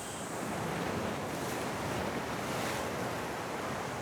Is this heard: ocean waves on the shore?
yes